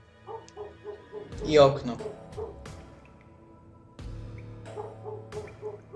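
A dog yips and whimpers repeatedly somewhere outside the room, with short bursts coming in a loose rhythm while a person speaks over part of it.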